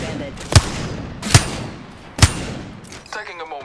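Gunfire in a ranked video game match, three loud, sharp shots evenly spaced about a second apart over a low background rumble, with a brief burst of speech-like sound at the end.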